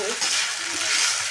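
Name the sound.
stirring soaked sabudana in a frying pan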